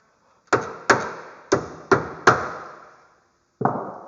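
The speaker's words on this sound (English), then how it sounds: "Sometimes you got to tap these with a hammer." Six sharp metallic hammer taps on axle parts of a 2011 Polaris Ranger XP 800, the first five in a fairly steady rhythm and a final one after a pause, each with a short ringing decay.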